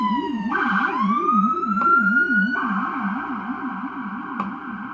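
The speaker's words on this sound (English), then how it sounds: "Yeah, that's the ambulance." An ambulance siren passing outside wails in a fast rising-and-falling pattern, with a higher tone sweeping over it, loud and fairly close.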